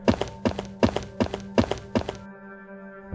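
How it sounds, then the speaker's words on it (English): Footsteps sound effect: six evenly paced, heavy thudding steps with a slight double impact over a low sustained musical drone, then the steps stop while the tone carries on. "The same footsteps from the recording."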